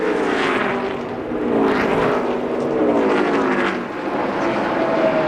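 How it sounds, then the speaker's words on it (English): NASCAR Busch Series race cars roar past on track in a steady, loud engine drone that swells and fades as the pack goes by, with no talk over it. "He's passed his teammate, David Green."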